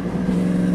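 A motorcycle fitted with a Toce exhaust drones loudly and steadily at close range, its deep, even exhaust note holding for under a second.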